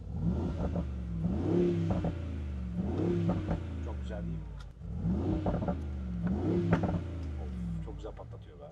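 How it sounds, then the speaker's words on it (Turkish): Mercedes G63 Brabus V8 rated at 700 horsepower, fitted with an aftermarket exhaust, revs repeatedly in a steady pattern of rising blips, each swelling and falling back to a deep idle, loud and close, with people talking over it. "Çok içli içli çalışıyor bu V8 ya."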